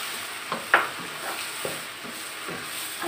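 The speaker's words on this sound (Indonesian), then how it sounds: "Aduk rata lagi." Minced-chicken bolognese sauce is stirred in a hot pan, a soft low sizzle with a few light scrapes and one sharper knock of the spoon against the pan.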